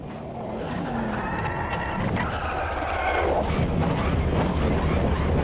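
A race car lapping in the Automobilista 2 racing game, its engine droning steadily with rising and shifting pitch and some tire noise, loud and continuous throughout, with no talk.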